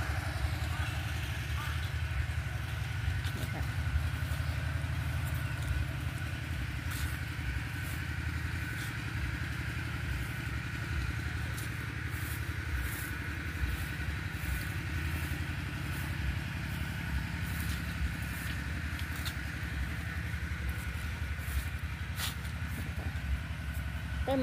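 A water pump engine runs steadily at a flooded orchard, a continuous mid-pitched drone at moderate distance with no change in rhythm, and someone talks over it at times.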